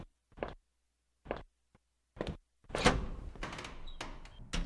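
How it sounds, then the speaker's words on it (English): Heavy metal door in a video game, a series of separate dull thunks and knocks followed by a longer grinding, rumbling scrape as it is pushed open, close and fairly quiet. "I pressed against the heavy metal door"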